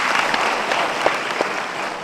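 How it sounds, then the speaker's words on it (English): An audience at an inspirational talk session applauds steadily, a dense, even roar of clapping with a couple of louder individual claps standing out. "we should all give a huge round of applause for ma'am"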